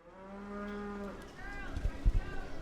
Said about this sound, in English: trying to steer dozens of cows to the milking parlor